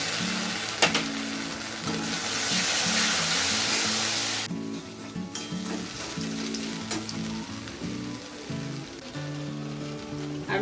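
Masala sizzles loudly in a pan as a poppy seed and green chili paste is added for an egg posto dish, with a bright frying hiss that swells, then drops sharply into quieter bubbling and stirring scrapes.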